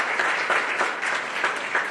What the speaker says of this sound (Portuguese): uma salva de palmas para todos os nossos donadores